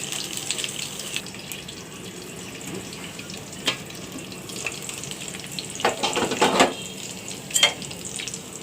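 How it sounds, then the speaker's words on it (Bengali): Bottle gourd chops frying in oil, a continuous hiss of sizzling with several louder crackling bursts and scrapes as pieces are added and moved, close, no voices. "সবগুলো দিয়ে দিচ্ছি এখন একদম তেলে ভাজবো আমি"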